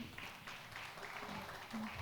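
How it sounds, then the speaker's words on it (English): A conference audience claps steadily in a dense, continuous wash of applause that sounds moderately distant. "A huge round of applause, everybody."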